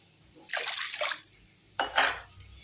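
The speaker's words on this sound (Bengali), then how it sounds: "মাছগুলো দিয়ে দিলাম, ফুটে গেলেই আমি এখন নামিয়ে দেবো।" Pieces of rohu fish go into a simmering Bengali garlic curry, giving two short splashy hissing bursts of liquid and spluttering, close and moderately loud, with quiet gaps between.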